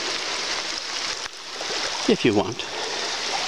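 Creek water flowing steadily along a canyon trail, a constant broadband rush filling the whole stretch, with a person's brief speech rising over it partway through.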